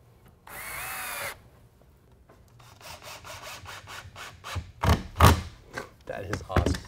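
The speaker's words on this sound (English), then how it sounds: "So we'll go ahead and put the screws on the back side and this back rail on." A power drill whirs in a brief sustained burst, then screws are driven into the back rail of a wooden DIY workbench. Rapid knocking and scraping bursts grow louder toward the end while people talk.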